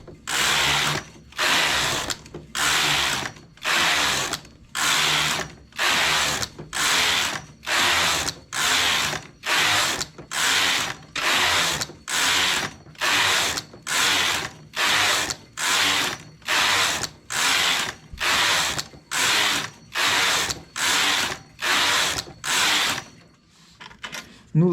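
A knitting machine carriage is pushed back and forth across the needle bed for thirty rows, making loud, close, evenly spaced rasping sweeps about once a second, working English rib for a side-opening vest.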